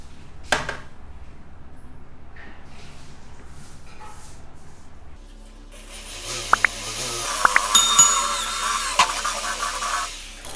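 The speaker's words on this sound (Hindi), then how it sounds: "तो इसके लिए मैंने अपने इस रॉड के बराबर का होल कटर लगाया हुआ है। तो देखिए, अब हम इसको छेद करते हैं।" A hole cutter, sized to match a rod, bores through a homemade bucket geyser; after a few quiet seconds a steady loud grinding starts, with sharp clicks and knocks over it, close by.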